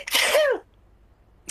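One sharp, loud human sneeze up close, a quick rising burst that falls off within half a second, followed by a short quiet gap and the start of another breathy sound.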